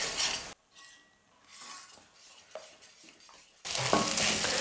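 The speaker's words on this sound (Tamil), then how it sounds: "ஸ்டவ்வை கொஞ்சம் மீடியம் ஃப்ளேமில் வச்சுக்கிட்டு முட்டையை நல்லா வேக வச்சு எடுத்துக்கலாம்." Egg frying in a pan for kothu parotta is stirred with a utensil. Loud sizzling bursts open and close the clip, with quieter scraping and clinking of the pan in between.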